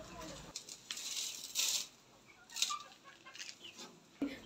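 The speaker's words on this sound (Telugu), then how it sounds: "నాటుకోళ్ళు కదా, ఏదైనా తినేస్తాయి అన్నమాట" Free-range country chickens on a small farm, clucking in short scattered bursts at close range over a quiet background.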